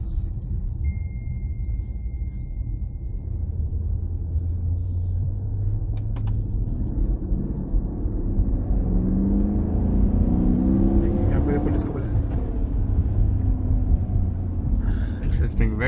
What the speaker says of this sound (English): A very nice sound of the engine.